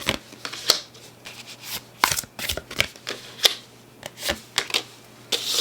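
Tarot cards shuffled by hand in a quiet room, a run of crisp riffling flicks and sharp slaps at an uneven rhythm, close and fairly clear with no talk.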